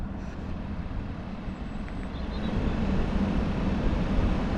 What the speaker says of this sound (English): top fan's working like a jet engine